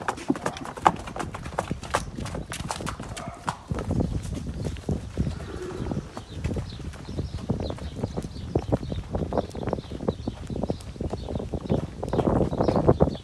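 Hooves of draft horses clip-clop at a trot, a fast, uneven run of sharp thuds that carries on throughout, with faint bird calls in the background.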